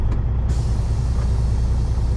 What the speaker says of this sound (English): there was a dump truck in there